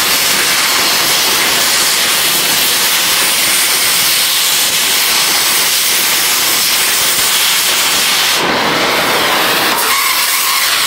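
A torch roars steadily while burning grease out of a front axle U-joint on a Jeep Wrangler, a loud continuous hissing rush. Near the end it briefly flares or sputters with a sharper burst.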